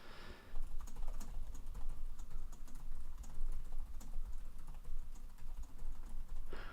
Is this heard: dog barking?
no